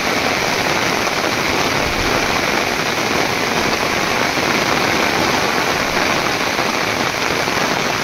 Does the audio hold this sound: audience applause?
no